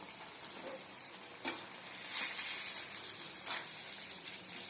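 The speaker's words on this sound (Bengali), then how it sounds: "আমি দু পিঠ হালকা গোল্ডেন করে ভেজে নিচ্ছি।" A papad sandwich fries golden in a pan, giving a quiet, continuous sizzle with soft crackling pops and a few brief surges, no talking.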